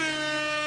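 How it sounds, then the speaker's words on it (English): A single sustained air horn blast, loud and steady with a bright harmonic drone throughout, sounded at a crowded Halloween Horror Nights 2025 scare-zone gathering. "We'll do more air horns."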